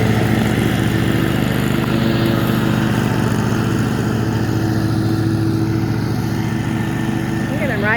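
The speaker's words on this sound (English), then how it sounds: "now he's mowing it, so now I'm not gonna have to" A riding lawn mower works its way up a steep hill, its engine droning loud and steady close by, with a constant mechanical hum and no break in the sound.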